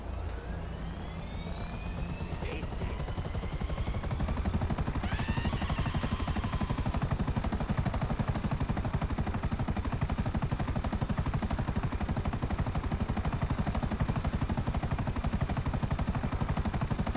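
A helicopter on a sightseeing tour drones steadily with a loud, continuous rotor and engine roar that swells slightly after the first few seconds and holds unbroken, with no talk over it.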